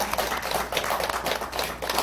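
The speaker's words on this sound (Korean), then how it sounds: "이런 모든 감사함을 다 함께 담아서 큰 박수로 모두에게" Applause from a temple congregation at a Buddhist Baekjung memorial prayer service, a steady wash of many hands clapping throughout, fairly even in loudness with no talk over it.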